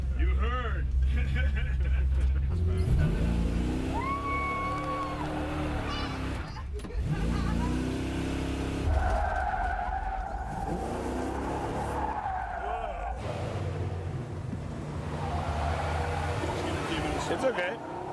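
A heavy car accelerates hard and skids with squealing tires during the making of O Besouro Verde, engine roar and screeches over several passes, with people talking throughout.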